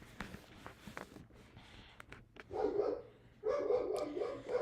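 A dog barks in the background at home as tornado-strength winds hit the Omaha metro, a few sharp barks followed by two louder bursts near the end, with no one talking.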